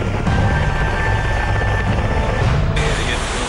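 Helicopter rotor and engine roar, steady and loud throughout, during a flood rescue of stranded people in heavy rains in Jammu and Kashmir.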